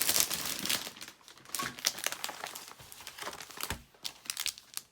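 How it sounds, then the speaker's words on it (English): Plastic packaging of a card making bonus kit being opened, with steady close crinkling and crumpling broken by a few sharper tearing bursts, loud and unbroken throughout with no talk. "So I'm going to open up the bonus kit first."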